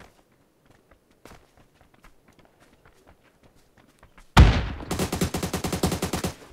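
Gunfire in the PUBG video game on the Erangel map: a few faint footsteps and distant shots, then a sudden loud close automatic burst of rapid repeated shots that continues to the end.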